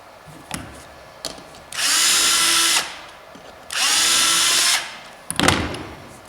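Power drill whirring in two steady, sustained bursts while driving screws into door hinges during a door install, with small clicks and handling knocks before and after, close and clear.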